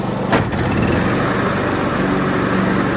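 Honda Harmony 2013 lawn tractor engine running steadily at close range, a loud, smooth and even drone with a brief knock near the start.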